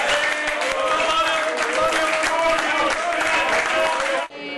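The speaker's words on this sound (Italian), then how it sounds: "nella sede del Carroccio scatta l'applauso" Applause breaks out at party headquarters in Treviso as a new mayor's election win is confirmed. Dense, continuous clapping is mixed with excited voices, then cuts off abruptly just before the end.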